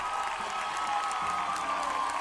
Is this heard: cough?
no